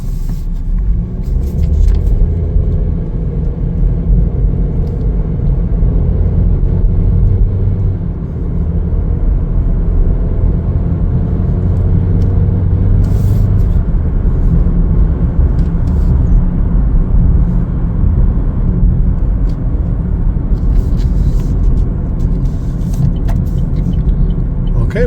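A 2024 Chevrolet Equinox AWD LS with very low mileage drives along, heard as a steady low road rumble and engine drone from inside the cabin, with no one speaking.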